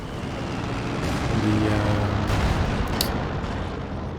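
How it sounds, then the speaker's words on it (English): Artillery strike in the Company of Heroes 2 video game during a 3v3 match: a rumbling barrage of heavy booms with a louder burst near the middle, dense and close, no talk. "Oh, now we've got a artillery strike."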